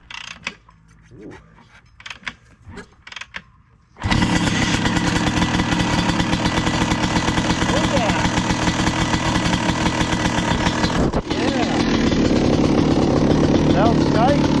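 An old dirt bike, unstarted for years, sputters in a few rough bursts at first, then catches and runs loud and steady up close with a buzzing, rattling engine note.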